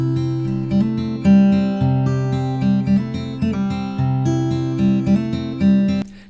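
Acoustic guitar played alone, unprocessed before mid-side EQ, strummed chords ringing steadily and loud for several seconds.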